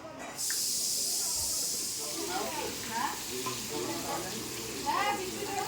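Pointed gourd (potol) drops into hot oil with a loud hiss that settles into a steady close sizzle while voices talk over it.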